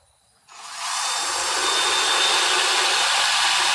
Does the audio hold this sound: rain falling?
no